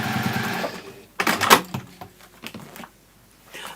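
A sewing machine stitching an in-shower washbag in short, loud mechanical bursts with brief pauses between runs of stitching, heard up close in a home workshop.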